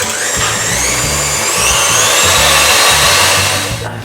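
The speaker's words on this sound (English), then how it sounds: "just give it a good whisk for about 30 seconds" An electric whisk whirs steadily as it beats vanilla into Italian meringue buttercream, a loud continuous motor drone with rhythmic rattling from the beaters, alone and close up, cutting off at the end.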